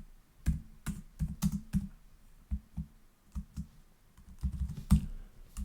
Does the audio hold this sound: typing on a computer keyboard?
yes